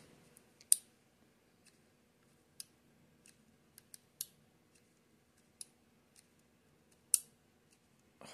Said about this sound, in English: What you're hearing there is this clicking on the frame.